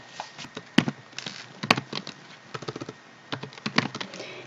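Close, quick keystrokes tap on a computer keyboard while entering data into an Excel sheet, with irregular short clusters of clicks and a few louder key strikes, no voices present.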